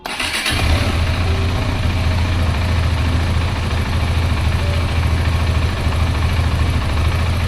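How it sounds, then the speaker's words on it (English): A KTM Adventure 390 motorcycle fitted with a RaceDynamics FuelX Lite unit cranks briefly, catches, and settles into a loud, steady idle that runs unbroken to the end. "it's time for the first crank with the FuelX"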